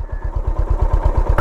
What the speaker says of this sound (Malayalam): ബൈക്കിൻ്റെ ബുള്ളറ്റുകളിൽ മിസ് ചെയ്യുന്ന ആ ഒരു തമ്പുണ്ടല്ലോ,